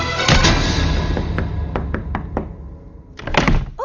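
Knocking on a door in a 2000 Bollywood action drama: two heavy thumps, then a steady run of sharp, close raps, ending with a brief louder clatter.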